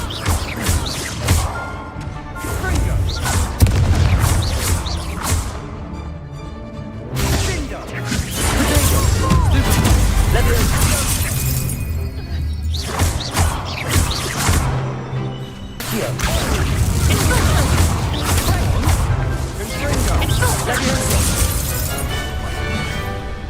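Confringo explosion spells and other combat effects in the video game Hogwarts Legacy: repeated blasts, crashes and whooshes in a dense, loud battle mix, with game music and character voices.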